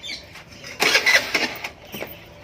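A Honda Activa scooter cranks and catches in a short rough burst of engine noise, then sputters briefly before dying down, heard nearby with no talk.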